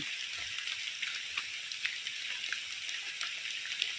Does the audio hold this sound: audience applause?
no